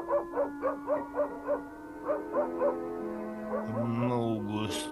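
Cartoon dogs bark in a quick regular series of short, tonal yaps, then break into drawn-out wavering howls toward the end, fairly close and clear.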